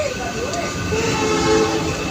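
A train departing Santragachi rumbles steadily along the tracks with a continuous low roar and faint tonal hum, heard nearby without pauses.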